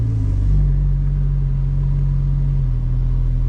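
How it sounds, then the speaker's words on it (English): A Porsche 911 Turbo S engine idles with a steady low rumble while reversing at low speed, close and loud, its tone dipping slightly partway through. "let's see if I remember how to go reverse in a 911 turbo"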